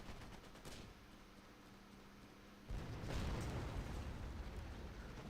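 Artillery shells landing in a video game battle: a faint burst of rapid distant shots, then a sudden rumbling explosion that stays loud and broad, with no talk.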